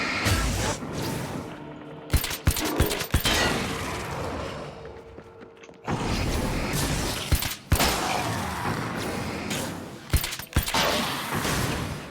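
Grenade explosions burst in Alan Wake's American Nightmare, a video game, as repeated sharp blasts and crackling debris cut through a dense layer of combat noise, loud and close.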